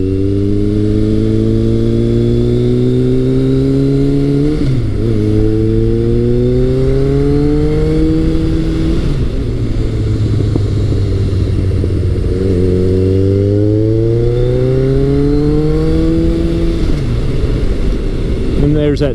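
A Honda CB1100 or Kawasaki ZRX1100 motorcycle engine revs up repeatedly, pitch climbing through gear changes in loud, close, continuous acceleration out of corners.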